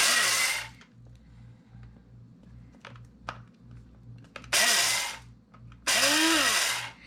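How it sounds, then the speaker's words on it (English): An electric grinder whirs through pre-toasted sesame seeds in three loud, close bursts: one at the start and two near the end, the last one winding down in pitch, with quiet gaps between them. "So I'm gonna throw those in my grinder and grind away"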